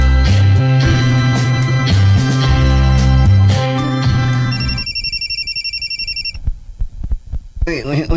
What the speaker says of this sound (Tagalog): May bagting mga akong mahalong cellphone